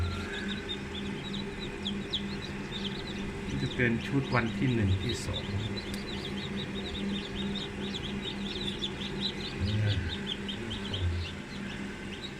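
Many small chicks peep rapidly and constantly in high, repeated chirps in a crowded hatching cabinet while a person talks nearby.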